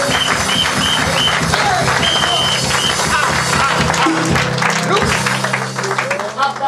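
Church service congregation applauding for Jesus, steady dense clapping from a large crowd mixed with voices and music, sustained loudly throughout and thinning slightly near the end.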